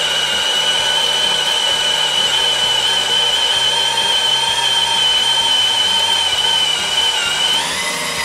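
Makita drill boring with a 1¼-inch spade bit in first speed, a loud, steady whine that holds constant for several seconds and shifts pitch briefly near the end, close and continuous with no talking.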